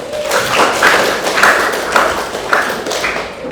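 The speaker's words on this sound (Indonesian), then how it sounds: "Oke, tepuk tangan." A classroom audience claps together after a religious studies lesson on the Asmaul Husna, with steady overlapping hand claps at moderate loudness and no talking.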